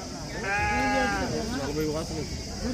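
Sheep at the busy Gudur livestock market bleat in drawn-out, wavering calls close by, several overlapping, with people talking throughout the crowded scene.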